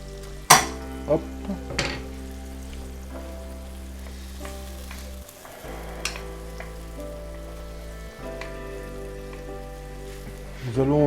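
Garlic hits a pan while making mussels in curry cream, with a sharp clatter as it goes in, then a soft, low sizzle over a steady hum, and a brief spoken word.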